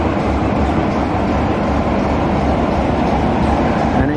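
Class 73 style diesel locomotive D6515, named Lieutenant Lenny Lewis RN, hauling a heritage passenger train out of Swanage station, giving a steady, loud rumbling drone that holds evenly throughout with no voices over it.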